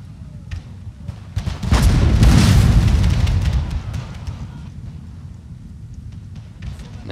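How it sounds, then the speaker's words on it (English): Artillery firing grapeshot in a Napoleonic battle game, a heavy booming roar swelling after a couple of seconds and fading slowly, with scattered distant cracks before and after. "my artillery is getting some grape shot down"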